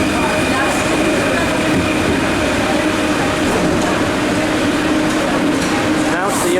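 A Paris Metro train rumbles and hums steadily nearby, with a faint voice over the continuous running noise and a high whine near the end.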